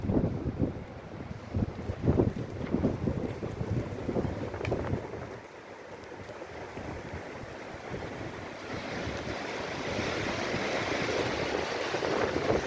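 Strong storm wind, about 90 km/h, roars steadily, buffeting the microphone with gusty rumbles and a broad whooshing hiss that swells again toward the end.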